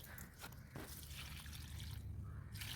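Water is poured, about a litre per plant, onto brinjal plants in a terrace garden, giving close, soft trickling and dripping for a few seconds with no talk.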